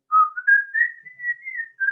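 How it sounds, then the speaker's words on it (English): A person whistles a short, wavering melody of a few joined notes, close and clear, alone with no other sound. "we can whistle"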